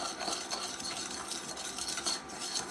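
A spoon stirs a small steak marinade of sesame oil, soy sauce and cornstarch in a bowl, giving quick, quiet, continuous clinking and scraping, close and alone without talk.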